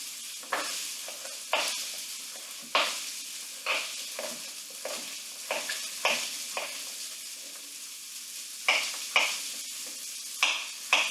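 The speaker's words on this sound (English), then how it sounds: "We've definitely got nice browning going on our moose meats." Moose meat browns in a hot pan for stew, sizzling in short bursts with repeated scraping and stirring strokes, each flare of crackle decaying back to a quieter hiss, close and alone without speech.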